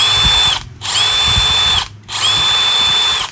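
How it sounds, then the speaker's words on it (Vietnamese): A Milwaukee 2553-20 12V brushless cordless screwdriver revs close and loud in three steady high whirring runs, each cut by a brief pause between them. "và đó là cây pha bắn vít, nó có lực mạnh là 146 N và có 4 cấp độ điều chỉnh lực"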